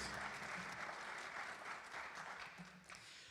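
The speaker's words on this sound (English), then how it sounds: "How about a round of applause for Dave?" A faint round of clapping from a crowd at a school board meeting, continuous and even, heard from some distance.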